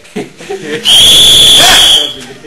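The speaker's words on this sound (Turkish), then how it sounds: "İyi ki bir düdük vermişler sana." A loud, steady whistle blast holds for about a second, with a bright piercing tone, framed by brief talk before and after.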